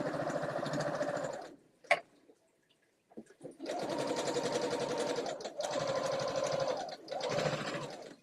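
A sewing machine stitches seams in bursts: a long run, a pause with small clicks, then three more sustained runs, close and loud.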